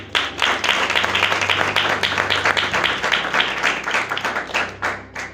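A church congregation at a pastor's sermon breaks into applause, a dense, steady crowd of hand claps at close range that holds for several seconds and thins slightly near the end, with no speech over it.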